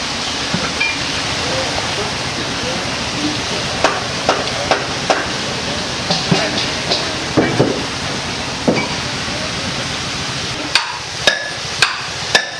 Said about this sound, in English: The ore gets put inside to the trommel together with steel bars like this, which grind over hours and destroy the rock